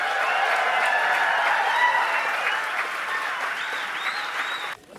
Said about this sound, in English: One more huge round of applause for Winona LaDuke.